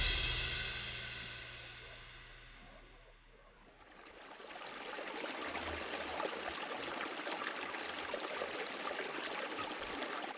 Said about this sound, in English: Welcome to the American River